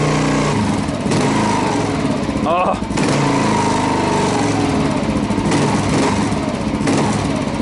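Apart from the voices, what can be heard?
Kawasaki KLR motorcycle revving with Lex aftermarket exhaust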